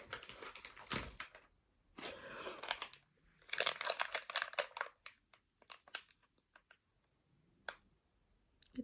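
Metal dice click and rattle close up in a quiet room, with several dense bursts of clattering followed by sparse, separate little clicks that taper off.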